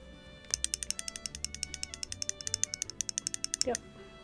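A locking Petzl climbing carabiner handled up close, its gate mechanism making a rapid run of crisp clicks and ratcheting snaps, quiet and intimate, ending in a brief creak.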